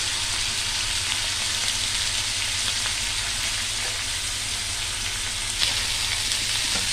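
Potatoes and poppy seeds fry in a pan with a steady, dense sizzle that holds for the whole stretch, close and moderately loud, with one brief stir near the end and no talking.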